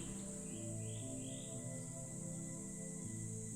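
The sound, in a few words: cicadas or crickets chirping outdoors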